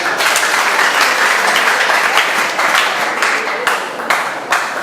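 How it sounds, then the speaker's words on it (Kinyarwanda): A crowd at the 10th anniversary celebration of Club Culturel Intahemuka applauds with dense, loud, continuous clapping for about five seconds, close and full, with scattered louder individual claps. "mubakomere amashyi"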